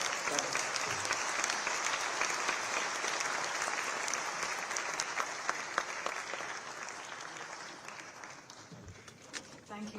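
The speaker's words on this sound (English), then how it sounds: "a huge round of applause" Sustained applause from a large audience at the Global Fintech Fest in Mumbai, dense and steady throughout, fading slightly toward the end.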